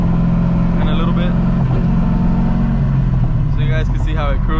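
LS V8 engine in a swapped Nissan 300ZX droning steadily while cruising, heard from inside the cabin with a low exhaust hum and brief revving swells as someone talks over it.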